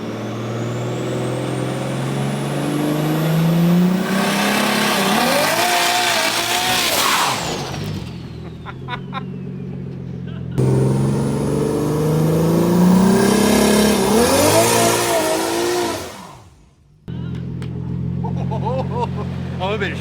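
Turbocharged Nissan S15 Silvia with an 8HP70 gearbox accelerating hard through the gears, loud rising engine pitch climbing twice to a high scream before abrupt gear changes and lifts, close inside the car.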